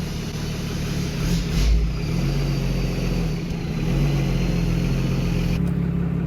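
Cummins 12-valve diesel engine with VGT turbo and exhaust brake idling in a truck, a steady low rumbling drone heard close and alone, with a brief swell partway through.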